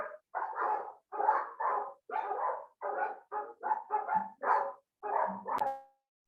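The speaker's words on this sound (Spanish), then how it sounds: "mis perros están muy escandalosos" Dogs bark loudly and close by in a rapid series of about a dozen sharp barks with short gaps, no talking over them.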